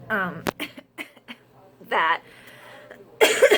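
Someone talks with short breaks, interrupted by a few sharp, rough coughs and throat clearing spaced a second or so apart.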